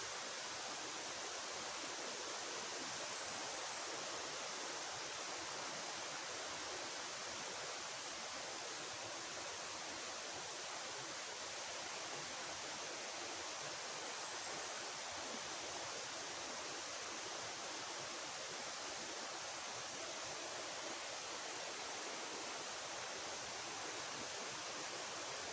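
A river runs with continuous, even rushing water that stays broadband and unbroken, faint and steady throughout with no voices.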